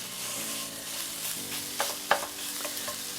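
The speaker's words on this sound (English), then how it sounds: "let's get this sausage in the skillet" Sausage browning in a preheated skillet, a steady soft sizzle with occasional stirring scrapes and clicks of a utensil against the pan.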